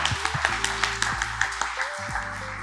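Audience at a finance leadership conference applauds briefly, a short burst of scattered, moderately loud hand claps over a low room hum.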